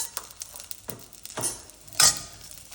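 Chopped tindora (ivy gourd) sizzles in a pan with coriander powder, turmeric, chili powder and cumin, soft frying crackle broken by a few sharper scraping stirs.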